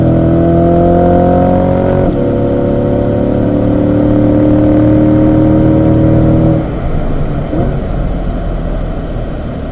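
A 2020 Corvette C8 at Spring Mountain track during an autocross owners' school, its engine droning loud and steady with a low rumble. The rumble shifts and roughens toward the end as the tires run over the curb. No one speaks.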